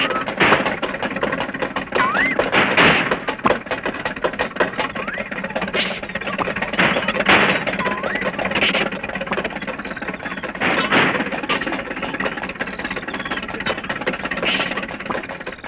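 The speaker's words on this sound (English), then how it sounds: "replied Mr. Funny modestly, and drove off" A cartoon shoe-shaped car drives off, heard as a rattling, knocking engine putter running steadily at moderate volume, dotted with occasional squeaky comic accents.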